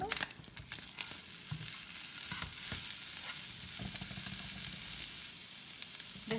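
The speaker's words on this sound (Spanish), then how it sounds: "Le agregamos la cebolla y el pimiento." Onion and bell pepper sizzle steadily in a hot pan for stuffed eggplant with meat, a continuous crackling fry with a few louder spatters and stirring scrapes, close and alone.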